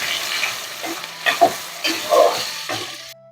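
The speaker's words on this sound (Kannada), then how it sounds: "ಈರುಳ್ಳಿ ಸ್ವಲ್ಪ ಬ್ರೌನ್ ಕಲರ್ ಬರೋ ತನಕ ಫ್ರೈ ಮಾಡಬೇಕು" Onions frying in a pan until light brown, a steady close sizzle broken by several scraping strokes of a spatula as they are stirred, with no talk.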